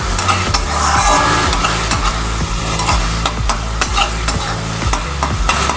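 Kashmiri chili powder and spices fry in a pan for a mutton dish while a spoon stirs them in a steady rhythm of scrapes over a constant sizzle, close and fairly loud.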